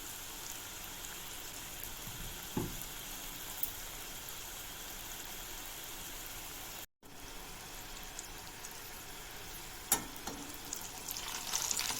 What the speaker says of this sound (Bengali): এখন আমরা আলু স্টিকগুলোকে বেজে নিচ্ছি